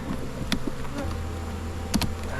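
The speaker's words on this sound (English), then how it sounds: "They got a healthy population of bees" Honey bees buzz steadily in an opened beehive during a mid-July inspection, a close, continuous drone with occasional louder passes and soft clicks of hive equipment; no talking.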